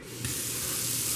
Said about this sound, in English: So we've got the, you know, easy to clean spray stuff, swivel,